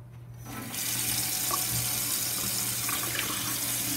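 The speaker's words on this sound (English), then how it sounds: "As soon as you fill a glass with water" A kitchen tap is turned on after a quiet moment, then water runs steadily into a sink with a bright, continuous splashing hiss and a low hum underneath.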